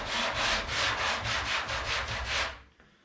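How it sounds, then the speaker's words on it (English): Body filler on a custom Chevy bootlid is sanded with 80 grit sandpaper: close, rhythmic rasping strokes, about nine in quick succession, that stop abruptly. "giving a bit of a whiz over with some 80 grit"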